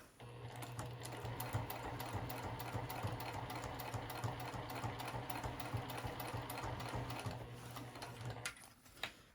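Sewing machine stitching the lining of a zipper pouch, a fast even mechanical whirr of needle strokes running steadily and close for about eight seconds before stopping.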